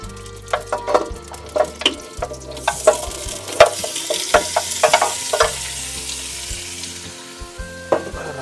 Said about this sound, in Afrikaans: gaan nou die olie byvoeg en dan net ons vleise ingooi sodat die vleise kan lekker sag kook